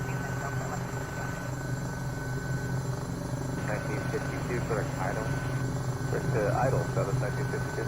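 A helicopter in Microsoft Flight Simulator drones steadily with a constant rotor and engine hum near Los Angeles, while radio chatter and a voice talk over it.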